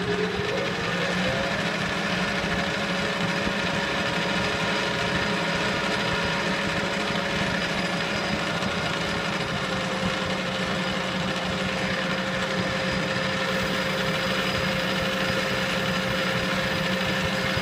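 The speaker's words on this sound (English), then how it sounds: "put one of those new Duratomic Seco inserts in. Let's see how it does." Metal lathe turning a Troy-Bilt rototiller shaft with a new Seco Duratomic insert, a steady whine with a sustained tonal ring over constant machine hum, unbroken for the whole stretch, no voices.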